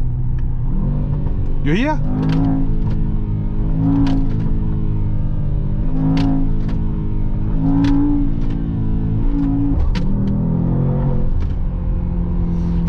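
A Mercedes-AMG GT63S E-Performance engine pulls hard in first gear at high revs, a loud rising growl with pitch sweeps and steady rumble throughout, while a person talks over it inside the cabin.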